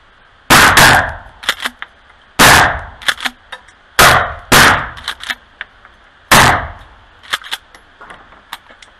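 Five loud, sharp shotgun blasts from a Mossberg Shockwave firing Aguila mini shell slugs, spaced unevenly over several seconds outdoors, each followed by a quick echo and small clicks of handling between shots.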